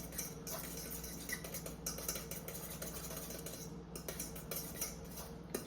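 A utensil taps and scrapes in a bowl while fish taco filling is stirred with lime and salt, giving soft, quick clinks and ticks at low volume with no talking.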